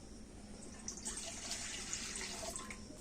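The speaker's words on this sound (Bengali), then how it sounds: "কড়াতে আমি এখন দিয়ে দেবো জল" Water is poured into a wok on the stove, a steady faint splashing stream with a light hiss running throughout, no voices.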